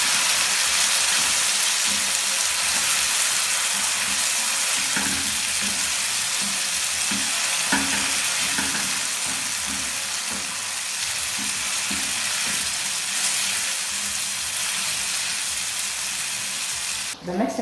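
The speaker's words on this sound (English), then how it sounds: "So my onions have already browned, so I'll add the tomatoes inside." Tomatoes frying with browned onions in a pan make a steady, close broadband sizzle, with soft stirring knocks along the way.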